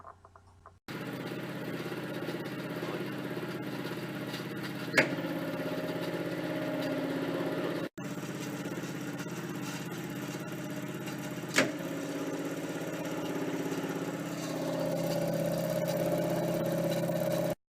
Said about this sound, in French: une alternation entre le mode triangle et le mode étoile sur le moteur grâce à la réalisation de ce câblage